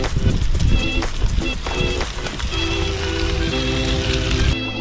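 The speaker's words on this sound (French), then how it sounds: "Bon bah du coup il pleut." Rain falls steadily during a kayak trip, a dense, close patter on the water and boat, with a person talking over it.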